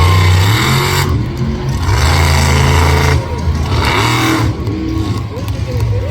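During a freestyle run at a dirt speedway, a monster truck engine bellows and revs hard in repeated surges, loud and near, with commentary running over the roar.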